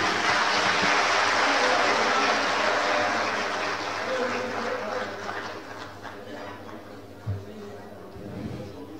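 An audience at a PGI hospital event in Una gives loud, dense applause that gradually fades over several seconds into scattered murmuring chatter and a few stray claps.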